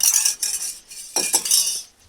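A metal spoon clinks and scrapes rapidly against a bowl, stirring khaman dhokla batter in one direction in quick bursts with a brief pause in the middle.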